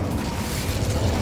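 A fire spell cast in the Hogwarts Legacy video game produces a steady, dense whoosh of flame with a low rumbling body, continuous and fairly loud for just over a second, with no voices.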